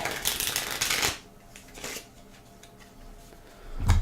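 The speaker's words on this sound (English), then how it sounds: "give it a bit of a shuffle" Game cards being shuffled for a solo board game, a crisp riffling burst at the start, then softer card handling and faint taps, close and quiet with no talking.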